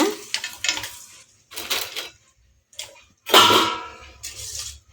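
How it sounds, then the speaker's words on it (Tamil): Pani puri rounds are dropped into a pan of boiling oil, giving a run of separate clattering, clinking bursts of metal and utensil contact with short gaps between them, plus some faint sizzling. "இப்போ நம்ம இதில் பானிபூரியை போட்டுடலாங்க."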